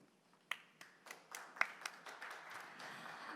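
Scattered clapping from an audience after a keynote speech by Professor Foreman at a conference opening ceremony, sparse individual claps that thin out, fairly faint.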